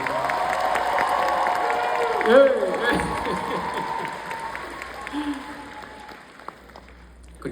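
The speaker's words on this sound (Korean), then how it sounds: "이 무대를 거의 다 만들었다고 해도 과언이 아닐 정도로 큰 박수 한번 부탁드리고" A concert audience at a show applauds and cheers for the band's keyboardist, loud at first with shouts, then trailing off while someone speaks briefly.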